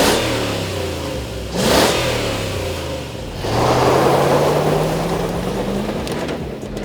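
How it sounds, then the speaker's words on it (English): A V8 Toyota 4Runner with its stock exhaust revs up twice, each burst rising and then falling back toward a steady idle hum, loud and close with no voices. "there are a few reasons why I wanted to change up the stock exhaust on my V8 4Runner"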